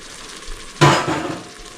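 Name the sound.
tomato sauce with lemon juice boiling in pan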